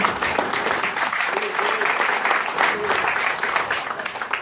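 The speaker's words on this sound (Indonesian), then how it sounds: "kasih tepuk tangan untuk Pak Pras" Sustained applause from a room of attendees for a mentor, Pak Pras, at a company gathering, a continuous thick wash of clapping with faint voices underneath.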